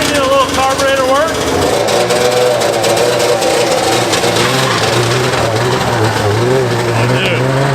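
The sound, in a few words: vintage snowmobile engine running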